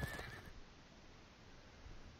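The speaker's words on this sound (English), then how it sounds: "Wild horse is now within our zone of control." A wild horse neighs once in the fantasy strategy game Fallen Enchantress, a short whinny at the very start followed by faint game ambience.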